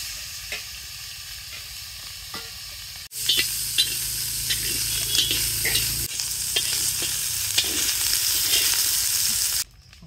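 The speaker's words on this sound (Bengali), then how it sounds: "ভেজে নেবো এবার।" Ingredients for vegetarian bhog khichuri fry in a pan, a quiet sizzle that jumps abruptly to a loud, close hiss with scraping stirs, then cuts back down at the end.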